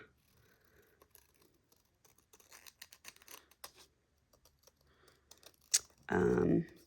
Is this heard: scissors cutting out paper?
yes